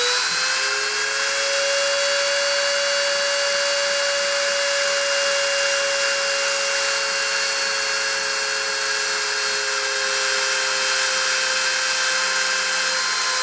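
Machine spindle spun up to 30,000 RPM during a deposition process, a loud, steady high-pitched whine with stable tones that holds constant throughout.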